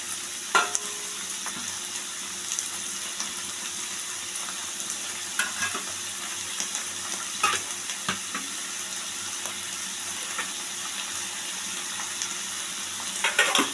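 Cabbage and mixed vegetables stir-fried in a pan: a continuous moderate sizzle punctuated by sharp spatula scrapes and taps at irregular intervals, with no speech.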